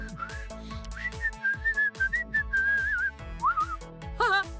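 A person whistles a lively, wavering melody close by, rising and falling in pitch over steady backing music, ending in a few quick high trills.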